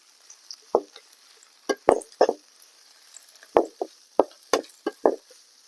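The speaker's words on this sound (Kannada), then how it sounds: "ನೋಡಿ ಇವಾಗ ಚಕ್ಕೆ ಲವಂಗ ಕೊತ್ತಂಬರಿ ಪುದೀನ ಎಲ್ಲಾನು ಫ್ರೈ ಮಾಡ್ಕೊಳ್ತಿದ್ದೀನಿ" Cinnamon, cloves, coriander and mint fry in a pan outdoors for country chicken sambar, heard as separate scraping spatula strokes at an uneven pace over a quiet background, close and distinct, with no talking.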